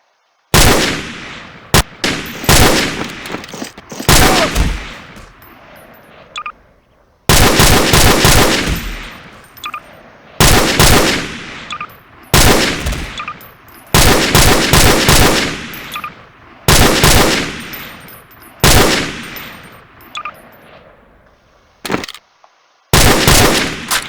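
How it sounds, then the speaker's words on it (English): M14 rifle fire in the video game Garry's Mod: loud, close repeated shots in rapid bursts and single cracks, each with a sharp attack and decaying tail, separated by brief pauses. "So that's the M14."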